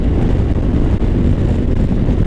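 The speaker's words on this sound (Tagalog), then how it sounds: "lakas ang hangin" Loud, constant wind buffeting the microphone while riding a motorcycle on an open road, a heavy low roar, with no speech.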